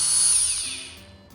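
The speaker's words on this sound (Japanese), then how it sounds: "このジェントスさんのハヤテっていうやつなんですけど" A Gentos Hayate electric blower on its low setting gives a high, airy whine that slowly falls in pitch and fades over about a second, with no voices.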